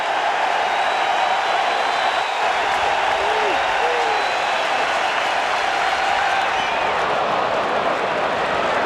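A packed crowd at a Cubs–Yankees baseball game at a stadium cheers and applauds continuously, a loud, sustained roar with scattered whistles.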